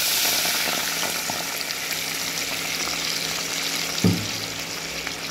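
Water poured into a hot pan of chopped garlic sets off a steady sizzling hiss, with a brief louder splash near the end; no voices.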